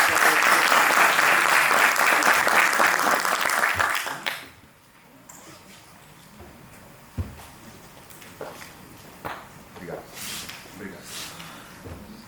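Audience at a Portugal Export 2022 event clapping loudly for about four seconds, then the applause cuts off into a quiet hall with scattered thumps and shuffling noises.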